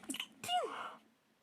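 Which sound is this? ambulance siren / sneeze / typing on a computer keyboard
sneeze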